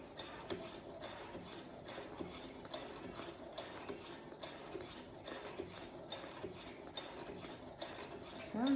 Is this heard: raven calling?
no